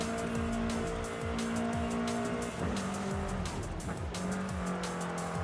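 A rally-tuned BMW M3 races in Forza Horizon 5, its engine droning loud and steady while the tires squeal and skid through repeated slides, with no talk over it.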